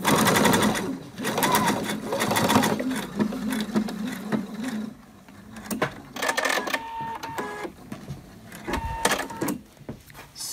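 A sewing machine runs a basting seam through fabric, its fast whirring stitch buzz running in stretches with short pauses and changes in pace, close and clear, without talk over it.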